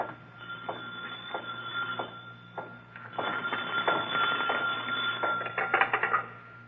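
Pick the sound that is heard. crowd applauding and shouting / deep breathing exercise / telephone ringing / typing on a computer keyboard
telephone ringing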